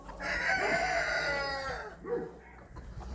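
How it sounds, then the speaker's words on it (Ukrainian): Mixed-breed chickens squawk and cackle in a loud, agitated burst, followed by a shorter second outburst, close by with no talking. "Кури полякалися."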